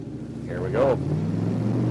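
A turbocharged LS V8 in a pickup truck with a log-style exhaust manifold and a slight exhaust leak, revving briefly with a rising and falling whine over a steady engine rumble, heard close up.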